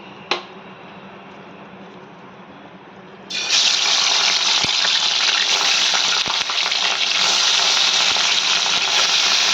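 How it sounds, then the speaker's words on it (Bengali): Fish dropped into hot mustard oil bursts into a loud, dense, continuous frying roar that abruptly takes over a quieter kitchen background after a short clink, close and sustained to the end. "তেলটা গরম হয়ে গেছে, আমি এর মধ্যে মাছটাকে ছেড়ে দেবো।"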